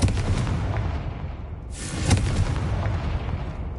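Confringo fire spell explosion in the Hogwarts Legacy video game, a loud booming burst over a dense rumbling background, with a sharp crackling flare near the middle.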